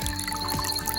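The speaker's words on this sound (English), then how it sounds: "now let's go back to the water flowing" Water flowing at Maracas Waterfall, a steady broadband rush and trickle filling the whole second, with no voices.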